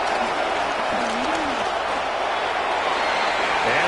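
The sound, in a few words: crowd applause in a football video game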